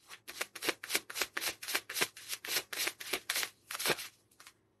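Message cards being shuffled for a tarot reading, a close run of about a dozen brisk riffling bursts in a steady rhythm, each a dry papery flutter, slowing and thinning out toward the end.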